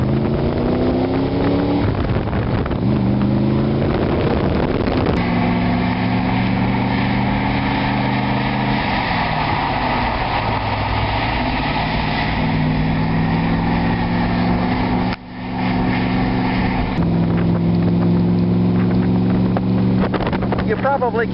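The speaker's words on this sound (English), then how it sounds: "this 289 Cobra motor sounds fantastic" An Allard car fitted with a 289 Cobra V8 engine driving on the road, the engine note rising and falling through gear changes under heavy wind noise, loud and close, with a voice speaking over it.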